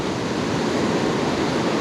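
Waves breaking on a winter beach, a steady broad wash of surf noise, close and even, with no voices.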